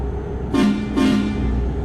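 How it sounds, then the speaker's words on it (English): A train horn fitted to a GMC General truck in American Truck Simulator sounds two short chord blasts over a steady engine hum. "we've got our working train horn here"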